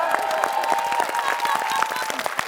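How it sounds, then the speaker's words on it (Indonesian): Steady applause from a TV show studio audience with some cheering, dense and continuous throughout, with voices faintly mixed in. "Oke, tepuk tangan dulu untuk dua wanita cantik kita."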